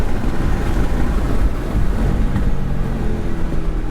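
A 2019 Mercedes G63 G-wagon with all-wheel drive accelerating hard from a launch, a loud, continuous low engine roar mixed with heavy wind rush throughout, no voices.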